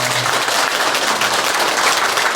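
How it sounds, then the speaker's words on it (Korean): A Buddhist dharma-service congregation gives a big round of applause for the monk Ji-an, a loud, dense burst of many clapping hands that stays steady for a couple of seconds. "지안 큰 스님께 다시 한번 감사의 큰 박수 부탁드리겠습니다"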